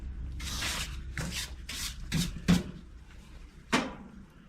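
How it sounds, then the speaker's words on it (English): A natural fiber whisk broom sweeps across a wood cook stove in a series of soft, brisk brushing strokes, close and fairly quiet, with a few sharper scrapes near the end. "you want your whisk broom, natural fiber whisk broom"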